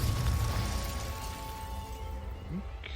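In the Hogwarts Legacy video game, a fire spell goes off as a rumbling, crackling burst that fades over a few seconds, followed by a faint rising whoosh near the end, with no voices heard.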